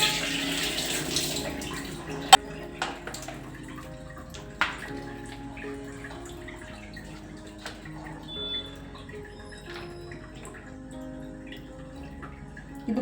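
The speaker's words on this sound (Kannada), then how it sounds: "ಈ ಒಂದು ಪಾತ್ರೆಗೆ ಸ್ವಲ್ಪ ನೀರು ಹಾಕೋಣ." Water poured into a pot before washing, a brief rushing pour at the start followed by quieter trickles and clinks, with steady tonal background sound throughout.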